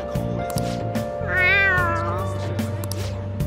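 A cat meowing in the video game Persona 5 Royal: one clear, drawn-out meow over the game's background music.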